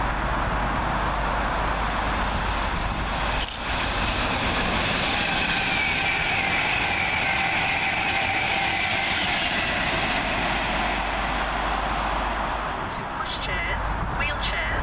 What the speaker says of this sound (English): Yet another freight working as 66719 works 4 Mike 23 from Felixstowe North to Hams Hall.